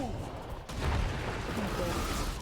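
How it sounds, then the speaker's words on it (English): An explosion booms in the video game Dragon Age: Veilguard, a sudden surge of rumbling, crackling blast noise that swells partway through and stays dense and loud to the end. "I need you to explode, please"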